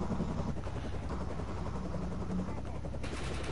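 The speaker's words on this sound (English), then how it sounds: "It's an alien helicopter." Helicopter from a PS4 video game hovering overhead, a steady dense rotor drone that holds at constant loudness for the whole stretch and is mixed with game noise, with no voices.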